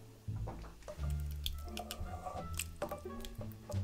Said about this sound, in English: So we went in there with this little masher and we're just going in and trying to get all of the juices out of